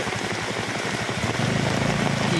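Heavy rain pours around Pochampalli in Krishnagiri district, a dense, steady hiss of falling water, with a low engine-like rumble growing louder in the second half.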